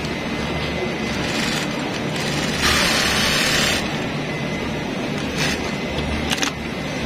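A single-needle sewing machine runs in short bursts of fast mechanical stitching, fairly loud and close, with brief pauses between runs.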